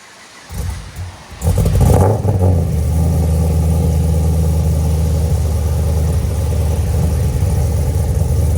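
A supercharged Chevy Camaro SS with long tube headers fires up from cold, a loud burst of cranking and catch followed by a steady, deep, lumpy idle that rumbles on close by with no talk.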